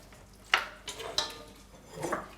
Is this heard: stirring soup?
yes